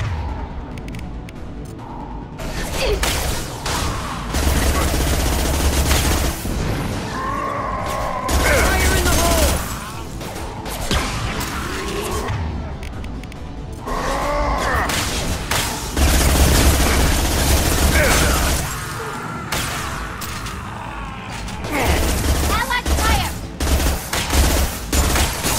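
Gunfire in the Mass Effect 2 video game, repeated loud bursts and booms of automatic weapons across a long firefight, with voices shouting between volleys.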